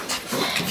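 Labrador puppies, English yellow and chocolate Labs, pant and whimper close by in a short, lively burst of breathy whines.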